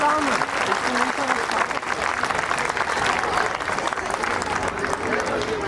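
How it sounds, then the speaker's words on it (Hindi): Audience at a school prize distribution event clapping for seated guests, a steady, sustained round of applause from a crowd with voices mixed in throughout. "अब इनके लिए भी एक बार ताली तो हो ही जाए"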